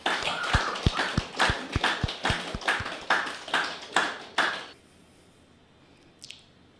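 Hands clap in a steady rhythm of about a dozen sharp, close strikes, like a small group applauding a speaker, then stop abruptly into near silence with one faint later sound.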